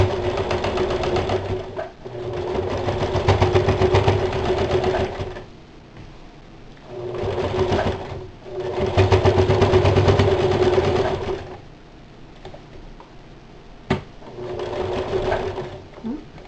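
A sewing machine stitches tucks into a festive holiday apron, running close and loud in several long bursts separated by short pauses, with a faint click near the end.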